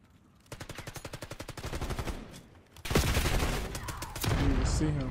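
Rapid automatic gunfire from Black Ops 6 on a holiday-themed Nuketown map rattles out in a fast, even burst. Heavier, denser shots and explosive bursts follow close by and loud.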